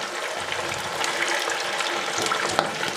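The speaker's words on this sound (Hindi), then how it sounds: "तो चलिए हम एक एक बड़ा उठा के हम घी में छोड़ेंगे।" Sabudana vada drop into hot ghee in a kadhai, setting off a steady, dense sizzle and crackle of frying that stays loud and even throughout.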